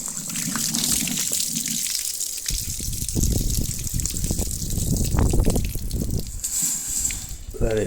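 Water gushes and splashes steadily out of an air mattress or camping sleeping mat, a continuous close pouring with a few louder surges toward the middle.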